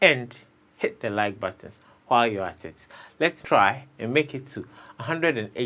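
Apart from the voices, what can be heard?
No everyday noises stand out.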